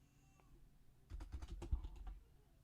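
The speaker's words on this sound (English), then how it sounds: "I'm typing it wrong" A short quiet burst of keystrokes on a computer keyboard, a quick cluster of clicks after a second of near silence, with no voices.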